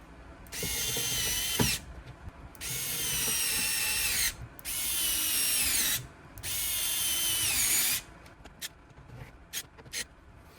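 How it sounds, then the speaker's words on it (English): A power screwdriver drives 3/8 inch number 4 screws into an astromech droid battery module in three sustained bursts of whirring, each a couple of seconds long, close and fairly loud, followed by quieter ratcheting clicks and handling. "These go in with 3/8 inch number 4 screws."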